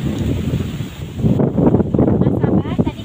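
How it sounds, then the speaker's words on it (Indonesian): Strong gusting wind with rain at an outdoor cooking spot, a loud, steady broadband roar that swells midway, with people talking over it. "Hujan bercampur angin ya teh. Anginnya kencang"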